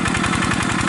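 A Yanmar Revo tractor engine runs nearby with a quick, even chugging pulse, a short steady burst of mechanical throbbing without any talk.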